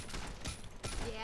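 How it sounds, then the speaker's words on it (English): Enemy gunfire in the modded video game Fallout New Vegas, two or three loud broadband bursts in quick succession over a dense noisy game mix, close and punchy. "I'll take out the guy who's shooting."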